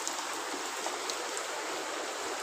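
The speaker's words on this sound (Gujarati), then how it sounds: "તો ગાઈસ અત્યારે પાછો વરસાદ ચાલુ થઈ ગયો," Steady rain falling outdoors, a dense, even hiss of drops heard at moderate distance without pauses.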